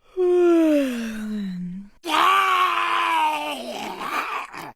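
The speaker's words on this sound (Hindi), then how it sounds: "चीखने को इंग्लिश में हम कहते हैं स्क्रीम" A person screams twice: a long descending wail that fades out, then after a short break a louder, harsher scream that trails off, with no talk.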